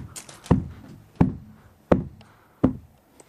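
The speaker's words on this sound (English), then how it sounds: "Wait, I hear a knock at the door." Four firm knocks on a wooden door, evenly spaced about two-thirds of a second apart, close and clear with nothing else around them.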